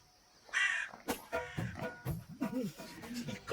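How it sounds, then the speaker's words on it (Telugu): A crow caws in a few harsh, moderately close calls, mixed with other faint voices and background sound. "నాకేదో కమ్యూనికేట్ చేయాలని ఎంత కృషి చేస్తుందో ఈ కాకి"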